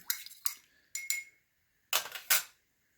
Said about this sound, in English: I'm going to stir it real quick with the sugar